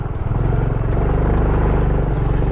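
A Honda XRM motorcycle climbs a steep uphill road through rolling hills, its engine droning loud and close with a steady, throbbing low buzz that holds without pause.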